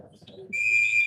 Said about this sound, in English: we'll finally get a whistle